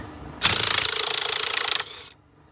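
A power tool, likely an impact driver, runs in a single loud rapid hammering burst of about a second and a half as it removes battery tie-down nuts on a truck, then stops.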